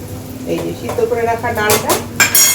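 Boiled dal poured into a pan of fried, scrambled egg, with stirring, clinking cookware and sizzling, all under a voice speaking over the cooking.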